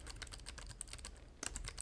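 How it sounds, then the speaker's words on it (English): Rapid typing on a computer keyboard while coding in a web editor, a steady run of close, crisp key clicks with a brief pause before a fresh burst. "if we start typing here"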